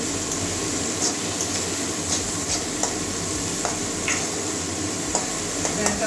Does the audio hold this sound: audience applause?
no